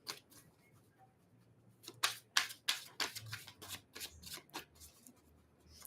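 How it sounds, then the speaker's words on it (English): Tarot cards are shuffled by hand in a quiet room, a series of soft crisp riffling and slapping bursts in an uneven rhythm, heard close and alone. "And while I'm shuffling for Cancer"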